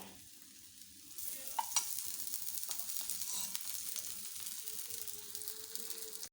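Rava dosa batter frying in oil on a hot pan, a steady broadband sizzle that swells after a quieter start and holds close and loud, with a couple of small sharp pops near the beginning.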